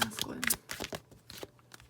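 Tarot cards are shuffled by hand in quick papery riffles and soft slaps, close and fairly faint, with a low hum underneath.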